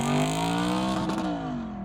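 An Audi R8 with a 4.2 V8 revs loudly nearby, a rich multi-harmonic engine note that holds and then dips in pitch as it fades slightly toward the end.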